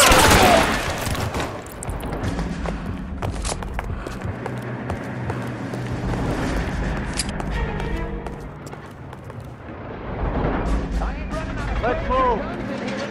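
Gunfire crackles in a shootout in the video game L.A. Noire, with several sharp shots scattered across the scene among shouted voices and background game noise.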